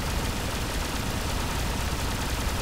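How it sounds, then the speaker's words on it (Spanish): Rapid, dense fire from a rotating plasma cannon in a video game, a continuous stream, a harsh broadband roar of shots blurring together at a very high rate. "Devastadora arma con un inicio lento, pero con una cadencia de disparo extremadamente alta."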